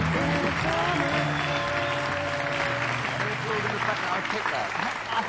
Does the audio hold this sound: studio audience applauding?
yes